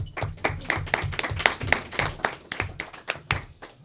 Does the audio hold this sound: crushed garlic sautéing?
no